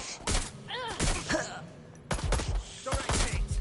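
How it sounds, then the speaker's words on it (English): Scattered gunshots and impacts in the video game Watch Dogs Legion, sharp thuds and bursts mixed with game noise and speech-like radio chatter throughout. "They're shooting at us."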